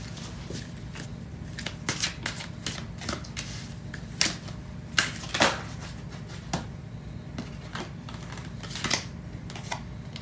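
Tarot cards shuffled and drawn during a love reading, a run of soft riffling taps and sharper flicking snaps at irregular pace over a low steady hum, with no talking.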